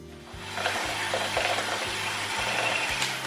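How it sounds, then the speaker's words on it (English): An electric mixer fitted with dough hooks churns a zucchini and feta mixture, giving a steady mechanical whir with a regular low thumping pulse and a wet, sloshing texture, close up and alone. "mix everything thoroughly together, and the best way to do this is with the dough hooks of a mixer"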